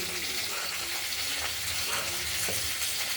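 Green beans and potatoes frying in oil with tempering spices, a steady close sizzle with faint scraping stirs, no talk.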